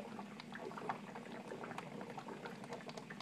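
Hydrogen gas from a 120-volt, 60-plate HHO dry cell bubbling through liquid, a continuous faint fizzing and gurgling with small pops, quiet and steady, no voices.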